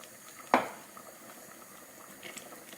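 A pot of beans with soffritto simmering, a soft steady bubbling under one sharp clink of a utensil against the pot near the start.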